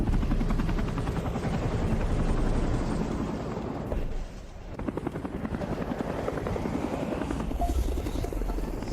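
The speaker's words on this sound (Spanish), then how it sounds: "Señor Liche, el helicóptero de rescate está a punto de llegar." Rescue helicopter arriving on a high mountain such as Everest: a loud, steady rotor roar with rapid blade chop holds throughout, dipping briefly midway before swelling again close by.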